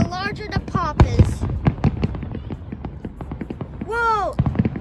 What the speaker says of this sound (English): The bigger the fireworks, the louder the pop does.